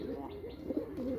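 Farm bird cooing nearby in a poultry shed, a few soft, low warbling calls repeating in quick succession, faint and close.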